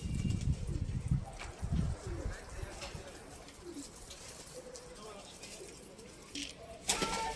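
Pigeons coo softly from a loft, low repeated calls at a modest distance, with someone talking intermittently over them.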